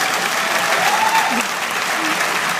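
An audience at an inspirational speech at Sofitel claps in a steady, dense wash of applause, close and fairly loud, holding even throughout.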